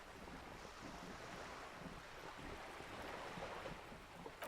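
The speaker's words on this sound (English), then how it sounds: "wind flaps the sail above her" In the game Disco Elysium, wind flaps a sail above a character over ocean waves, heard as a steady, broad rushing wash of wind and surf that stays quiet and even throughout, with no talk.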